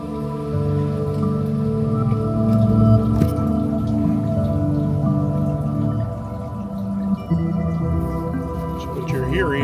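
Electronic music generated by a plant through a biodata sonification device on an outdoor back porch studio, with sustained droning tones and shifting pitched notes playing continuously at a steady level.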